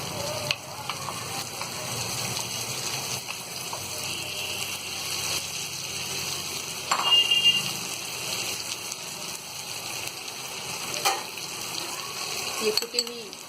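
Mashed potato and kidney beans frying in hot oil for veg bean tacos, giving a continuous close sizzle with a few brief scrapes and stirring bursts, no voices.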